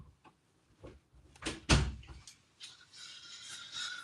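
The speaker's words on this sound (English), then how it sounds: "I'm gonna shut the door just in case." A door swings and shuts indoors with one solid thud after a few quieter knocks and creaks, followed by faint rustling and handling noise.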